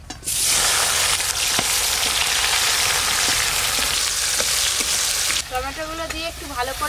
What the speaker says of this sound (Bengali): ফোড়নে তো কালো জিরে দিলাম এবার দেব টমেটো কুচি